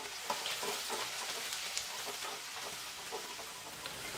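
Onion, green chilli and curry leaves sautéing in hot oil for Kerala-style kadala curry, a steady close crackling sizzle with small pops throughout.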